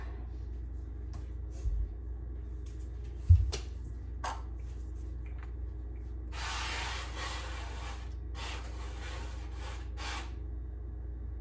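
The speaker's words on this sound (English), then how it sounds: "I'm gonna give this a good spray with my spray" Two bursts of cooking spray hiss onto a bread pan, a few seconds apart, with light clicks and handling knocks around them, recorded close.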